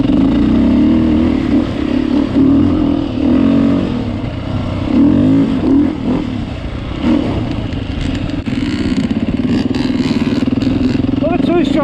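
A Beta 390 Race Edition four-stroke dirt bike ridden along a wet trail, its engine loud and close with fluctuating revs and clattering, while a rider talks over it throughout.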